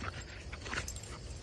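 A puppy makes faint whimpering and snuffling sounds close by, soft and brief, with light shuffling movement and no talking.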